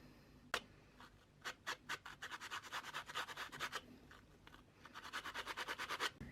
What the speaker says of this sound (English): This is actually a dog hair brush. And all you have to do is just rub it over to fluff it out.